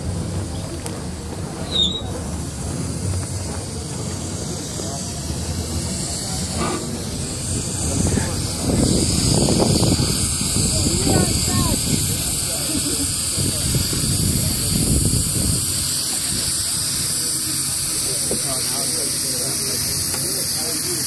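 Steam hisses steadily from a train on the Como turntable in Colorado, a broad continuous rush lasting the whole stretch, loud and close, with people talking over it.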